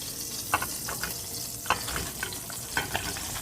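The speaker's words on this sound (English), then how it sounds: "our butter has melted, so now we're going to go ahead and add our onions and squash." Onions and yellow squash sauté in melted butter in a pan, giving a soft, steady sizzle with a few sharp utensil clicks and scrapes, fairly quiet and close, with no talking.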